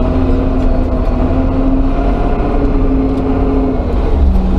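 Cars move through a snowy residential courtyard in winter, a loud, continuous low engine rumble close by, steady throughout with no voices.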